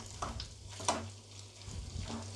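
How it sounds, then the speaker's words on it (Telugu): Fish fry coated with turmeric and salt frying in a pan over low heat, a faint steady sizzle with a few soft pops and light crackles, heard close and alone. "సిమ్లో పెట్టుకొని ఇలా ఫ్రై చేసుకుందాము"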